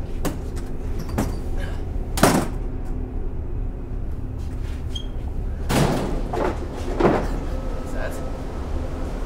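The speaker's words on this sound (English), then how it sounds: "Let's try to get this door open." In a student horror short film, a door is being forced open with several sharp bangs and thuds spread over the span, two of them clustered near the middle, over a low steady room hum.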